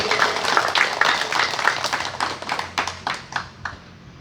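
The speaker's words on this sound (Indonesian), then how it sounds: "Tepuk tangan untuk Indonesia merdeka." A crowd at an outdoor Indonesian Independence Day ceremony on 17 August 2022 claps, a lively patter of many hands that thins to a few scattered claps as it dies down.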